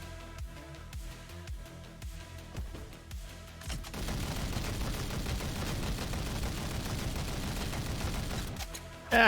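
Rapid, continuous assault-weapon gunfire from the video game Roboquest chatters at close range for several seconds, following quieter game sounds, then a louder burst hits at the very end.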